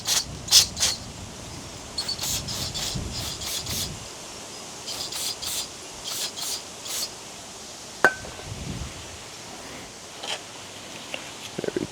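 Parts of a Stihl BG55 leaf blower are sprayed clean with short, sharp hissing bursts, repeated in quick clusters and then sparser, with faint handling noises between them.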